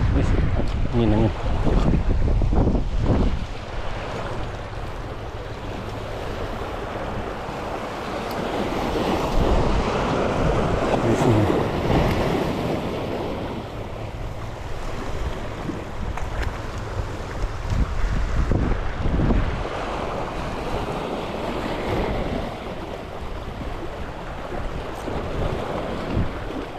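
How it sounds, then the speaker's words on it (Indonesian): Strong wind and sea waves along the shore during squid fishing, with a steady roaring rush and heavy wind buffeting on the microphone that swells and eases over the whole stretch. "Angin."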